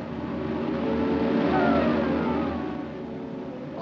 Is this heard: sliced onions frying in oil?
no